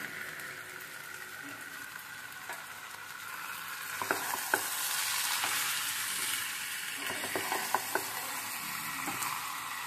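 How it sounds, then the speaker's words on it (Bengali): Chicken pieces sizzle steadily in a pan of spices and dried red chilli for a Bengali chicken curry, with scraping stirs and clinks of a spatula rising in the middle, close and loud. "এবারে চিকেনগুলোকে অ্যাড করে দিলাম"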